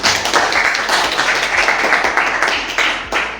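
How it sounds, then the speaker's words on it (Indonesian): A group of students gives applause in a classroom session, a dense, continuous clapping from many hands, close and loud throughout with no speech on top. "Sekali lagi berikan aplaus untuk kita semua"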